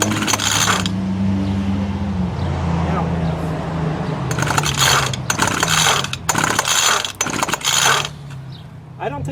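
A string-trimmer engine on full choke being pull-started, with repeated rattling bursts of the recoil cord and engine turning over amid a low steady hum, no catch.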